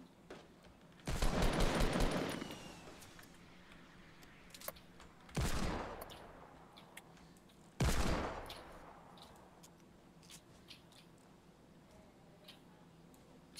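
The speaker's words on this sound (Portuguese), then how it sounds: "Tá dando tiro alguém aí" Gunfire in the video game Fortnite Battle Royale comes in three separate rapid bursts, the first one longest, fairly faint against a quiet background.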